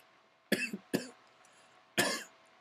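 Three sharp coughs, two close together then one after a pause, near and clear against a quiet background.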